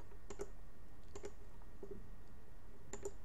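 Sparse keystrokes on a computer keyboard, a few quick clicks in small bursts at close range against a quiet room hum.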